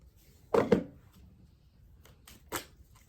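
Angel healing cards being shuffled by hand, with two short crisp bursts of riffling and a lighter flick later, set against a quiet room.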